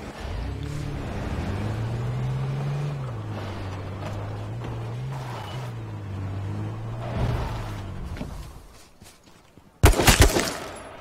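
Gunfire in the H1Z1 battle royale game: a loud burst of several sharp shots near the end, after a long stretch of steady engine-like drone and faint ambient noise.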